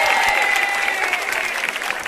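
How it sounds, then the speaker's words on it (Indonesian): Audience at a televised stand-up comedy battle show claps steadily and loudly throughout, a dense continuous wash of applause with faint crowd noise and no clear speech. "Tepuk tangan dong."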